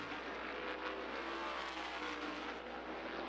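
Race cars run on the track at Stafford Speedway during a practice session, a steady engine drone with faint rising revs, distant and fairly quiet, heard alone.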